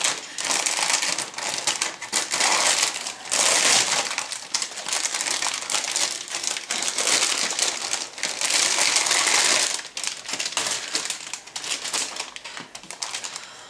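Plastic bags holding model kit sprues for a He 111H-6 German bomber crinkle and rustle loudly up close in repeated bursts of handling, with brief pauses between.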